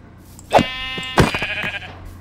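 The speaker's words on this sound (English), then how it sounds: "Oh, a sheep." A sheep in the video game Minecraft gives two short, wavering bleats about half a second apart, loud and close against a quiet background.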